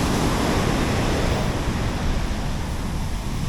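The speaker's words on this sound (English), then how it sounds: "I think you get some proper serious waves down here." Loud, steady roar of ocean surf on a sandy beach on the west coast of Portugal, broadband wash with wind buffeting the microphone and no voices.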